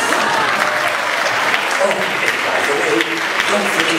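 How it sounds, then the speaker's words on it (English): An audience at a comedy magic show bursts into close, loud applause for the magician's assistant, the clapping dense and continuous with voices mixed in beneath it. "Let's give our assistant a great big round of applause"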